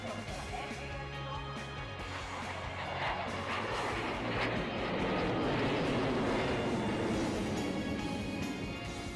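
Sukhoi and Tejas fighter jets performing at an Air Force anniversary air show at Hindon Airbase, a steady loud roar of jet engines that swells toward the middle and stays heavy throughout, with crowd noise mixed in.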